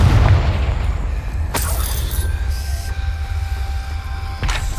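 Confringo fire spell exploding in the Hogwarts Legacy video game, a deep booming blast at the start followed by sharp cracks and mechanical clanking, with a ringing tone lingering under the rumble.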